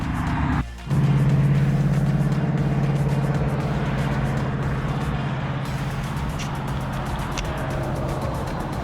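A 2019 Dodge Charger RT with headers and a Greene tune accelerates hard, its engine drone loud and close, holding a strong steady tone after a brief dip near the start, with no voices.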